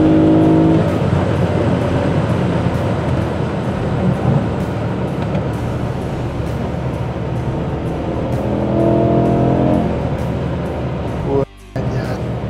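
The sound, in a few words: race car engine roaring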